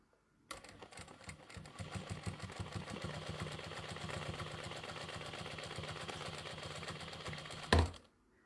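A home sewing machine stitching free-motion quilting with variegated thread runs in a fast, steady mechanical chatter of rapid needle strokes for several seconds, close and fairly quiet, ending with a louder clunk as it stops.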